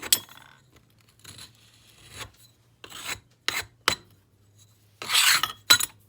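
Excess investment being scraped off a casting flask in short rasping strokes, several separate scrapes of varying length with quiet gaps between, close and fairly loud.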